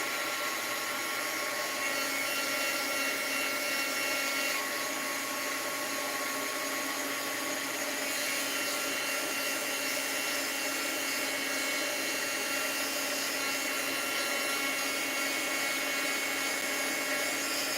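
A heat tool blows hot air onto bleached fabric, giving a loud, steady, high-pitched whine and airy hiss that runs unbroken from start to finish, with no talking.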